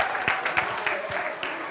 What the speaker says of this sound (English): One more round of applause for our second grade class.